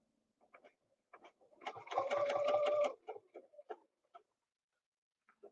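A sewing machine stitches straight-line quilting in one steady whirring burst of about a second, with soft clicks and handling noises before and after; no one talks.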